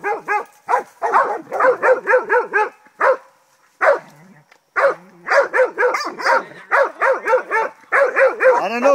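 A puppy barks and yips in rapid, repeated bursts, loud and close, pausing briefly near the middle before the barking resumes just as steadily.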